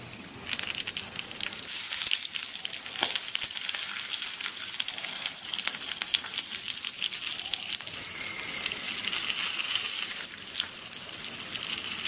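Starch sausages fry in a little oil in a pan, giving a steady close sizzle and crackle that runs the whole time with no talking.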